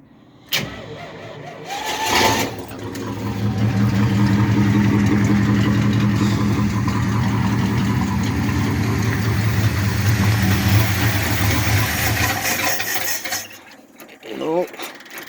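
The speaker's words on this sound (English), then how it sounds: "It fired off on that starter fluid." A Dodge wagon engine cranking on the starter and briefly firing on starter fluid, heard as a loud, steady mechanical churn lasting about ten seconds before it cuts off, with voices near the end.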